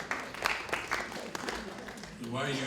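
Audience members at a referendum panel discussion in Te Awamutu clap in sparse, scattered bursts at low volume, before a voice comes in near the end.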